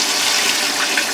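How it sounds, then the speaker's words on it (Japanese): Water from a tap runs steadily into a soup pot already holding pork mince and garlic fried in sesame oil, in a home kitchen: a short, continuous close-up rush of liquid with no talking. "水入れます"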